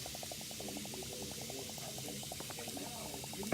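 Water draining down a household sink makes a quiet gurgling, bubbling trickle with quick regular glugs pulsing steadily throughout, close and alone.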